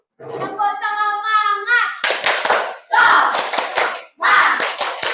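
Schoolchildren in a classroom clap out a teacher-led rhythmic chant; a voice calls out first, then bursts of close, sharp, patterned clapping mixed with shouted words follow.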